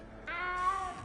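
A cat in a Harry Potter video game gives a single drawn-out meow, faint and fairly close, with no speech during it.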